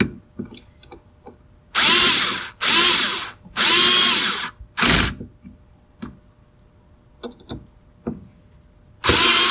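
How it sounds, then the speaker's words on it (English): A power tool tightens bolts on a racing steering wheel in four or five loud, close whirring bursts separated by pauses and small clicks and handling noises, with no talking. "tighten up the bolts"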